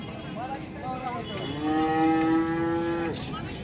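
A cow moos loudly and long at a cattle market, a drawn-out tonal call, with faint crowd murmur and background bustle around it.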